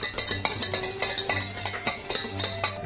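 Flour, salt and sugar stirred together in a stand mixer bowl for brioche dough, giving a steady run of soft scraping and light clinking strokes, close and moderately loud, with no voices.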